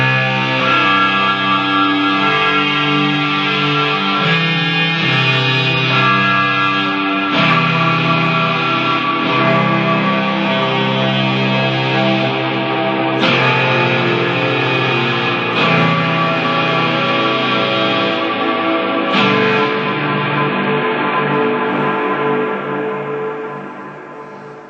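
A Boss SY-200 synthesizer pedal plays a slow, sustained phrase drenched in long reverb, notes blooming and washing into each other before fading out at the end.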